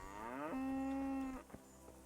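A single deep cow moo from Kingdom Come: Deliverance, rising and then holding steady for about a second, fairly quiet and heard alone, followed by a faint thump.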